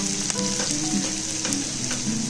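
Cloves, cinnamon stick, bay leaf and shahi jeera sizzle in hot oil in a pan while being stirred, a steady close frying hiss with scraping touches of the spoon.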